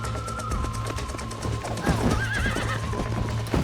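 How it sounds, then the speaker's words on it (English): Horse in the Red Dead Redemption video game neighing and whinnying with clip-clop hooves, a long rising whinny over a steady game score, near and loud, with brief talk. "Vuelve a tu caballo."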